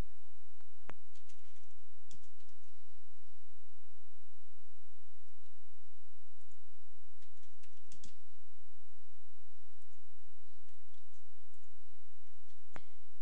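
Sparse, soft clicks of keyboard typing over a steady low hum, with a few isolated keystrokes spread out and no talking.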